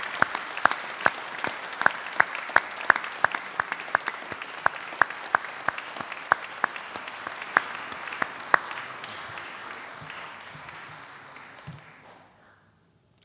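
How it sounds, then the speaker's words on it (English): A hall of university graduates applauds their supporters, a dense, sustained round of clapping punctuated by loud individual claps close by, fading out to near silence at the end. "give a massive round of applause to those who've supported you on the path to where you are today"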